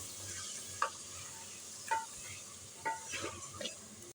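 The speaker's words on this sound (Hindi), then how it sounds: "प्याज के साथ ही भुनेंगे ना तो प्याज ये गल जाएगा" Onions frying in a pan for haleem give off a faint, steady sizzle, with a few soft scrapes of stirring at intervals.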